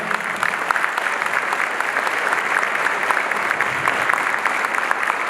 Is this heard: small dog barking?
no